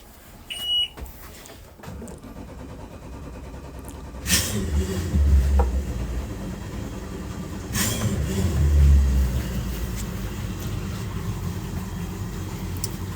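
Twin engines on a Beneteau GT32 boat idle low and steady, then swell as they are revved twice, heard close with a continuous rumble and no talk.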